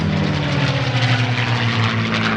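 A propeller airplane flies at the 2017 La Ferté-Alais air show, its engine a loud, steady droning roar that holds constant throughout, with no voices.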